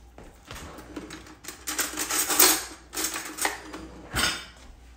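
A knife cuts into a boiled egg on a hard surface, giving a run of close, crisp taps and scraping clicks in uneven bursts.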